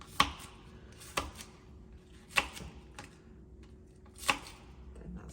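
A knife chops peppers and spring onion on a board in four or five sharp, close, evenly spaced strikes with quiet pauses between them.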